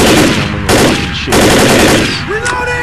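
Loud, dense automatic gunfire rattles in continuous bursts at close range while shooting zombies in the game Left 4 Dead, broken by brief pauses and faint clinking effects between volleys.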